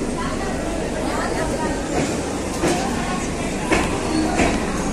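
A Bhagalpur–Anand Vihar Garib Rath Express runs past with a steady, loud broadband rumble, faint wheel clatter and occasional clanks coming through the continuous roar.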